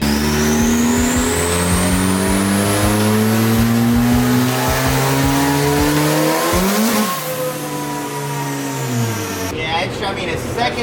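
A cheap eBay-turbocharged Honda Civic engine revs hard, its pitch climbing steadily for several seconds before dropping off and rising again, loud and continuous up close.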